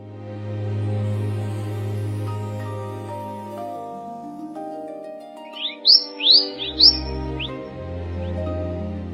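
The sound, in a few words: wild bird calls in nature at night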